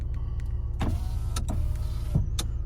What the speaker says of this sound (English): Electric folding mirrors work, as do the windows.